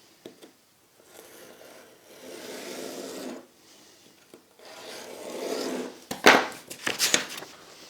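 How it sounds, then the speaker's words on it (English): Sandpaper is rubbed by hand along a wood edge in a series of soft rasping strokes, close and fairly quiet, ending with a few sharper, louder scrapes. "stretch a piece of sandpaper over this, hold it in place with my fingers, and off I go"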